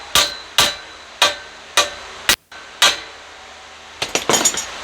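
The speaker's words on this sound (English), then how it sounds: "Take my little hammer right here," A small hammer taps metal six times at a steady, unhurried pace, bending a sharp corner on a drop-door hog trap frame. The bright, ringing strikes are close and clear, then a rapid flurry of lighter taps follows.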